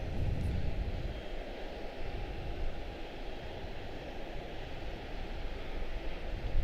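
Aircraft taxiing at Charlotte-Douglas International Airport, heard as a steady, broad jet engine roar at moderate distance that holds level throughout with no talk over it.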